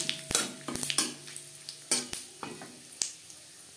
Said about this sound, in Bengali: ফোড়নে দিয়ে দিলাম 2টো শুকনো লঙ্কা, যেটা আমি টুকরো করে নিয়েছি, আর দিয়ে দেব তেজপাতা,